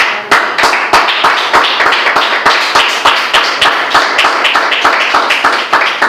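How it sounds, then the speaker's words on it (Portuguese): A church congregation claps together in a steady, quick rhythm. The sharp, evenly spaced beats are loud and close, with no talking over them. "Você pode aplaudir a Deus?"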